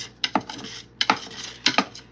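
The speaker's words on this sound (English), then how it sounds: "Take our offset spatula and just use it to scrape down the sides." An offset spatula scrapes down the sides of a bowl of homemade pistachio butter, giving three pairs of short metallic scrapes and clinks at a steady pace, close and alone.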